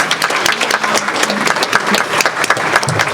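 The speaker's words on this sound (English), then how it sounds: "Round of applause." Audience applause for game designers at a digital learning games event, a dense sustained round of clapping filling the room for the whole moment, loud and steady.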